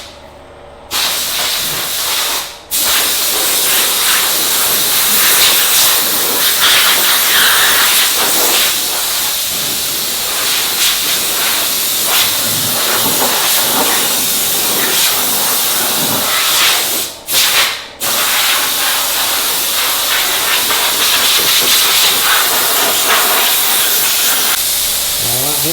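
Steady, loud hissing spray of water rinsing paint off a painter's suit, like a pressure washer, running almost continuously with two brief cut-offs near the start and again later on.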